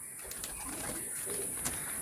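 Soft, low cooing from a Teddy pigeon in a Kolkata loft, a couple of brief murmured coos over a faint, steady background hiss with no talking.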